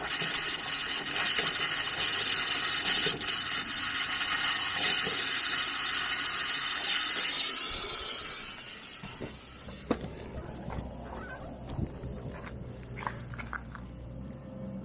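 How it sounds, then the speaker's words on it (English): Water rushes into an RV water heater as it refills, a steady hissing flow for several seconds that then drops to a quieter trickle broken by scattered clicks and gurgles. "You can hear it refilling."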